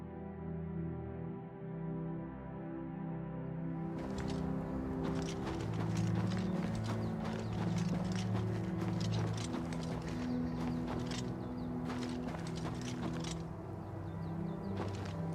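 Horse hooves clip-clop in a steady rhythm in the video game Oblivion Remastered, loud and close, over a continuous low rumbling background with no talk.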